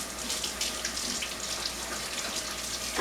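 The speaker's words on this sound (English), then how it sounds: "Now I'm going to rinse my hands real quickly" Hands are rinsed under a running kitchen tap, a steady close rush of water splashing into the sink without pause.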